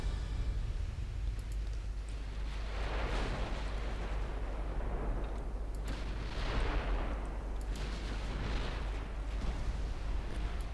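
Naval gunfire in a warship battle game, with several separate booming salvos against an enemy battleship, each swelling and fading into a rumbling tail over a steady low drone, moderately distant and not very loud.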